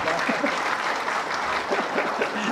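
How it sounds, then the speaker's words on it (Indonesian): A crowd at an Indonesian political talk event gives a short burst of dense applause that stays steady and fairly loud from start to finish. Faint voices are mixed in underneath. "Tepuk tangan dong."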